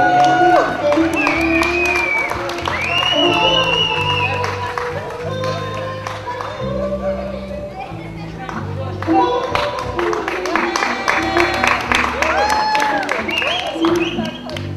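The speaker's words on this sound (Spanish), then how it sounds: "Un aplauso para ella." Wedding guests clapping together in steady applause through the whole stretch, with music playing underneath and scattered voices mixed in.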